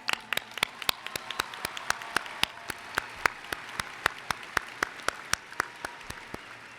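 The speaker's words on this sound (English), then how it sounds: "Seniors, let's give ourselves a round of applause." Graduating seniors at a 2021 Marshall High School graduation giving a sparse round of applause: a faint crowd wash under a few loud, distinct near claps that fall in a fairly regular rhythm throughout.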